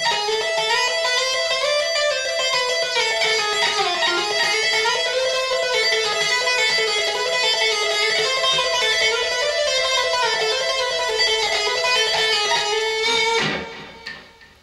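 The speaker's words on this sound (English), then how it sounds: "Or I can do almost the same thing, but I can play triplets." An electric guitar runs pedal-tone licks in smooth, rapid triplets using tapping and legato, a loud, sustained flowing line that stops abruptly near the end.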